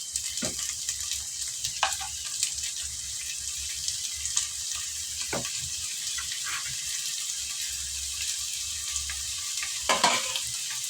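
Onions and curry leaves sautéing in a pan, giving a continuous soft sizzle with occasional scraping stirs and clinks of a spoon, close and moderately quiet.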